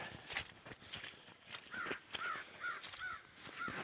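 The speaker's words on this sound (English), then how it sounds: "all we had was a couple of crows that screamed at us. Like that one." Crows caw repeatedly outdoors during a daytime coyote hunt, a series of harsh calls spaced through the moment, moderately distant and fairly loud against a quiet background.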